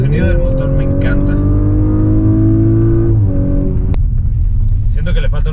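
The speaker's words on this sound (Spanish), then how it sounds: "Y el sonido del motor me encanta." An Audi RS5 or BMW M4 engine revs loudly and rises in pitch, then falls back to a steady rumble, heard close from inside the car while a voice speaks over it.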